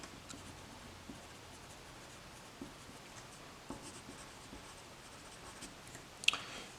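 Pencil writing on graph paper, a steady soft scratching with faint light taps, quiet and close throughout with no talking.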